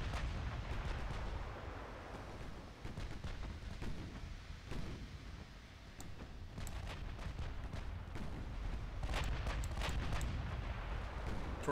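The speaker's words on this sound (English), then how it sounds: "Torpedo hit? Whoa, one of our torpedoes hit him?" Torpedo hit in the naval battle game Ultimate Admiral Dreadnoughts, heavy rumbling explosions amid continuous booming gunfire, dense and loud throughout with sharper cracks later on, no talk.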